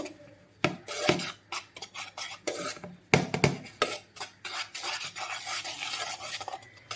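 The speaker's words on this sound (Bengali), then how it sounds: "তো আমি এটাকে ভালো করে মিক্সড করে নেব।" Dry cake ingredients for an eggless strawberry sponge stirred together in a bowl, giving a run of scraping, rasping strokes with light clinks, close and fairly quiet with no talking.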